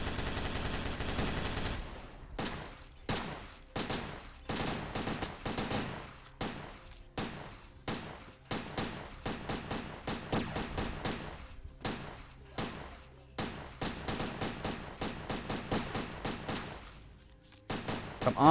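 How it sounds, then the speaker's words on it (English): Machine gun fire in the Dreamcast video game Headhunter, long rapid bursts of loud gunfire separated by short pauses, repeating steadily for the whole stretch. "Oh, machine guns."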